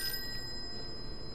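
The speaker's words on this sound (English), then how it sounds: "Should we answer the phone?" A telephone rings in the video game Call of Cthulhu, a faint, steady electronic ring tone held briefly over a low background hum.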